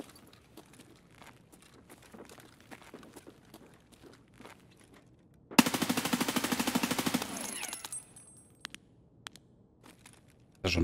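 Rapid automatic gunfire from a weapon in Escape from Tarkov, a loud sustained burst of close shots lasting about two seconds mid-clip, with quieter scattered game noises and footsteps before and after.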